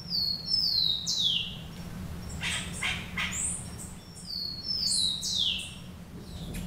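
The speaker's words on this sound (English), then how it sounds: "There's a bird up in the tree here" Birds in a zoo rainforest exhibit chirp in bright, repeated descending calls, clear and fairly close, with a steady low hum beneath and no talking.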